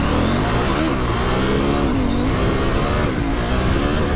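A Husqvarna 901 Norden motorcycle with traction control switched off revs hard and accelerates with the rear wheel spinning, its engine note rising and falling in loud, close surges with no speech.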